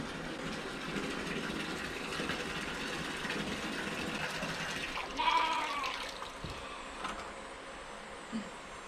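Sheep bleat faintly at a distance inside a farm barn, short cries breaking over a steady low background hum, with a couple of louder calls near the middle.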